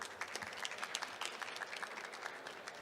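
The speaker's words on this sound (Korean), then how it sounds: "환영의 박수 부탁드릴게요." An audience at a startup conference gives a steady patter of applause to welcome a fashion investment firm's CEO, with many hands clapping at a moderate distance throughout.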